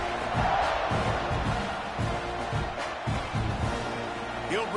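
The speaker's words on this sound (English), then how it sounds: "this crowd is buzzing after that last score" A stadium crowd buzzing in the college football video game NCAA 26, a broad roar of cheering fans rising and falling continuously with a commentator's voice talking over it.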